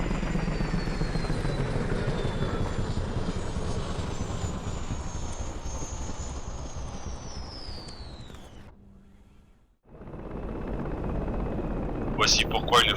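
In the game Project Reality, a helicopter's rotors and engine drone loudly as the craft slides out of control on a slope, the pitch falling before a sudden cutout, then the roar resumes, with talk underneath.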